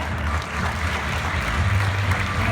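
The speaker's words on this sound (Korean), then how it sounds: "큰 박수로 맞이해주시죠." Dense, steady crowd applause fills a hall at the Kakao Bank launch ceremony as an invited guest is welcomed, with a low hum underneath and no speech.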